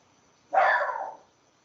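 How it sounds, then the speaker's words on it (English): A single short dog bark, a bit muffled and mid-distance, stands alone against a quiet background. "There's my dog again."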